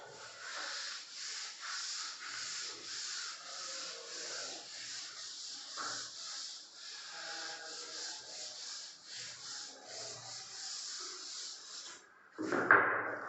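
An eraser rubbing writing off a classroom board, steady rhythmic back-and-forth scrubbing strokes at close range for most of the stretch, ending in a louder knock or scrape, with no talk.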